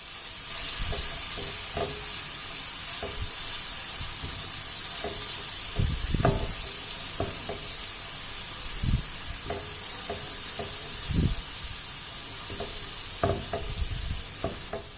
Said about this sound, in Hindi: अब इस लहसुन को सिर्फ इसमें 2 मिनट तक ही कुक होने देना है